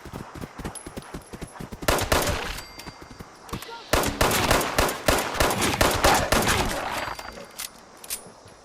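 Gun in Fallout 76 Wastelanders fires in scattered single shots, then heavy rapid bursts in the middle, loud and close, tapering to sparse shots with faint voices beneath.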